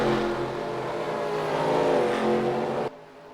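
Race cars in NASCAR Racing 2003 on a short straight at Indiana, a loud, steady engine roar from cars at speed that cuts off abruptly near the end, with no talk.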